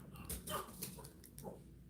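A pet dog yips, barks and whimpers excitedly at a raccoon in the yard, in short close bursts over a murky indoor background.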